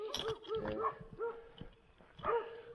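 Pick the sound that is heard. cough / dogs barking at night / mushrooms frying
dogs barking at night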